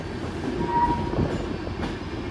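Karwar Express train running through hilly country near a tunnel, a steady low rumble of rolling wagons with faint clatter, close and continuous, with no voices.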